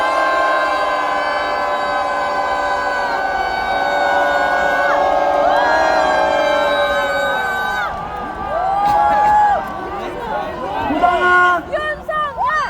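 A large political rally crowd roars and cheers, a loud sustained swell of shouting voices rising into scattered whistles and yells near the end.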